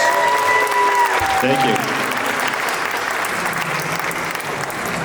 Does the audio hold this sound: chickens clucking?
no